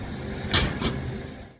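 A road buckles with a sharp snap, and a second heavy crack follows as a car crashes. The two bursts come about a third of a second apart over a low rumble, then fade out.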